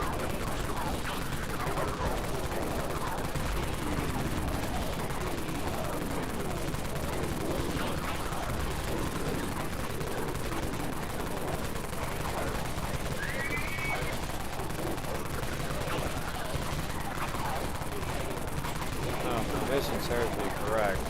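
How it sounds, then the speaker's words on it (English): Sustained, dense rapid-fire bursts from a minigun in a wobbly physics video game, loud and continuous for the whole stretch with a busy chattering texture and a voice faintly mixed underneath. "I have to eliminate all you little bastards with this minigun."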